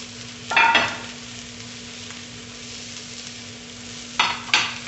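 Pieces of meat sizzle in the rendered fat of a shank for sancocho. A steady frying crackle runs throughout, broken by louder bursts of stirring and sizzling near the start and again at the end.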